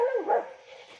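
A dog gives a short, sharp bark that trails off into a brief whine, close and fairly loud.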